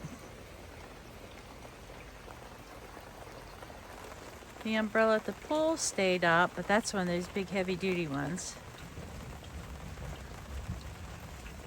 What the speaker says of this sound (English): it's thundering and I saw some lightning and I'm standing out here in the rain getting wet